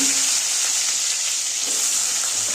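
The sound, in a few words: frying pointed gourd and potatoes in oil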